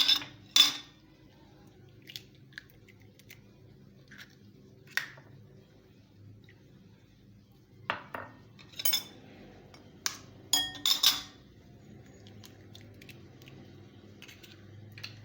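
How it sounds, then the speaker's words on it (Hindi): Eggs are cracked one at a time into a separate bowl, heard as sparse sharp taps and clinks against the rim with quiet gaps and soft wet squishes between, close and without talk. "तो अलग बाउल में 1 बाय 1 करके आप अंडे को तोड़ें"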